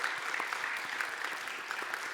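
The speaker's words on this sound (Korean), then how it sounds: "마리아 여전도회 다시 한번 박수로 축복하겠습니다" Church congregation at a Wednesday worship service applauding the Maria women's mission group, a steady patter of many hands clapping at moderate distance, brief and even.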